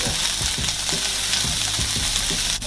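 Chicken for Parmesan chicken fries in a pan with a loud, dense, continuous sizzle and some faint clattering at the start, close and steady, with no talking.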